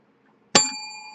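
A single bright bell ding with a sharp strike and a long ringing tail, close and clear after near silence, used as a prize call during a casual group chat show.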